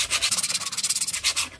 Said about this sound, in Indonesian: Ini tinggal kita amplas. Yuk kita amplas dulu. Pakai grade 60.